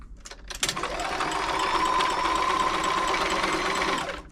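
A Frister & Rossmann 904 sewing machine stitches a long zigzag, a fast, even mechanical whir with rapid needle clatter, starting after a few clicks and running close and loud for about four seconds before stopping.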